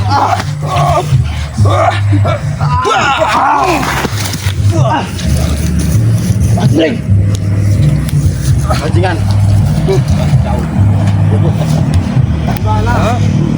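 Car engine revving, a loud rising and falling motor drone running through the whole stretch while people talk and shout over it.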